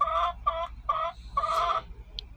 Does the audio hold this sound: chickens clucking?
yes